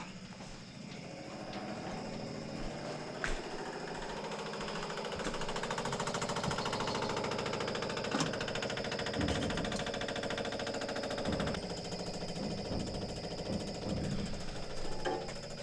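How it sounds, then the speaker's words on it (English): A steady, rapid mechanical buzzing drones on without pause, an electric fuel pump on a 1967 Chevrolet C10 with a fuel cell whirring close by with faint clicks and knocks mixed in. "We're just gonna turn it on so you can hear the pump."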